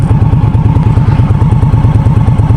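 A brand-new 2016 Indian Scout motorcycle with a liquid-cooled engine runs close by, giving a loud, steady, rhythmic low chugging pulse that holds an even idle throughout.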